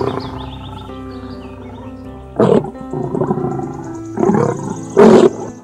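A lion gives a series of deep, loud roars and grunts, building in bursts close to the listener with short pauses between them.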